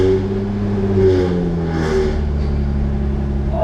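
A manual-swapped Audi S4 pulls away in first gear, its engine rising in a steady, close drone with stacked tones that climb gently in pitch as the car starts rolling, with no talk over it.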